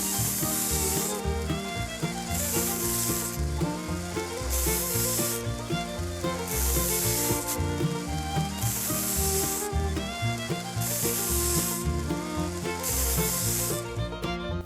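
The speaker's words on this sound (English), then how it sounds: "I went over them lightly with a 120 grit belt." A 120 grit belt sander lightly smooths the roughly formed threads on the handle of an International Harvester adjustable monkey wrench, a loud, steady grinding rasp that swells in regular rhythmic strokes about every second and a half, with no voices.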